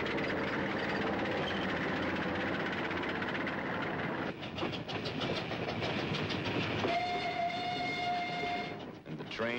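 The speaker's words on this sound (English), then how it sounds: "Trains loaded with war wearies going back for salvage." Trains hauling war-weary tanks and supply cars roll along the rails in a steady, loud rumble with clattering wheels, and a sustained whistle-like tone rises near the end.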